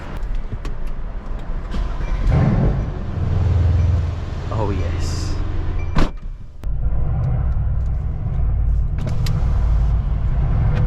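A Mercedes-AMG engine rumbles steadily in an echoing parking garage, with a brief rev and a short pause, while someone speaks over it.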